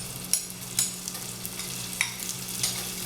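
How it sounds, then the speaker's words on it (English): Curry paste frying in a pan, a steady soft sizzle with a few sharp stirring scrapes and clicks scattered through, close and alone without any voices. "So now you want to turn down the stove to like medium. And just let that curry cook inside of there."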